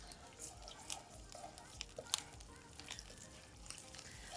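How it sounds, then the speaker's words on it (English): Oil crackles and sizzles steadily in a hot pan as curry leaves go in, with sharper pops and spits breaking through the continuous frying hiss. "Okay, pan sizzling, and in goes our curry leaves."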